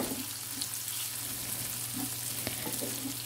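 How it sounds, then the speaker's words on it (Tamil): Onions sautéing with salt in a pan, a quiet, steady sizzle beneath a low hum, with occasional soft stirring scrapes and a small tap, no voices. "கொஞ்சமாக வந்து உப்பு சேர்த்து நல்லா வந்து வதக்கி விட்டுக்கிறேன்"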